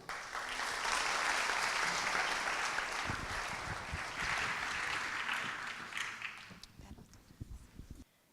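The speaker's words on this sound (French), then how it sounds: "Je vous demande d'applaudir la troupe Les Enfants de Mabawa." Audience applause for a children's theatre troupe at a regional natural-hazards conference on Réunion, a loud sustained burst of clapping that thins out over the last seconds into scattered claps.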